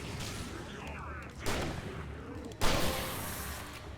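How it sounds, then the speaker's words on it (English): A flashbang bursts twice in quick succession in the video game Alan Wake Remastered, sharp loud pops with a bright hiss over a steady background of game ambience and faint voice. "Now we can use our flashbang."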